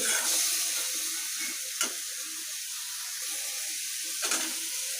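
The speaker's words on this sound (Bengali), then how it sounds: "এখন বেগুনটাকে খুব ভালো করে আমি একটু নেড়ে নিচ্ছি" Eggplant frying in a pan is stirred, giving a continuous close sizzle and hiss, with a couple of scraping knocks from the spatula.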